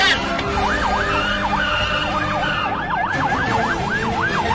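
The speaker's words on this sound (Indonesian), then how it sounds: "Kakak hidupkan sirine ya." A toy police car's siren wails in a fast, looping up-and-down pattern, loud and close throughout, with a brief dip near the middle.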